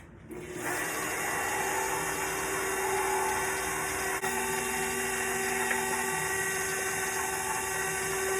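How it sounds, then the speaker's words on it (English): A stand mixer runs while hot sugar syrup at about 200 degrees is poured into egg whites for coconut cake icing, giving a loud, steady motor whine with a constant buzzing tone and no talk. "I'm gonna start the mixer and I'm gonna start pouring this into the egg whites."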